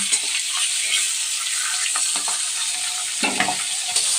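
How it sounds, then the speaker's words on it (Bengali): Half-fried fish pieces spatter and sizzle loudly in hot oil, a dense crackling hiss broken by a few scraping stirs and pops near the end, with no speech. "মাছগুলো অর্ধেক ভাজা হয়ে গেছে আর এই যে প্রচণ্ড ছেটকাচ্ছে"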